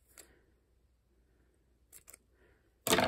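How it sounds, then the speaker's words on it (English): Scissors handled on a crafting desk, with a few brief metallic snips and clicks and a louder rustling clatter at the end; quiet pauses between the sounds. "Try and find my scissors here."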